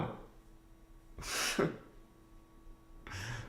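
A single human sneeze, close and soft, preceded by a sharp gasping intake and followed by a breathy exhale.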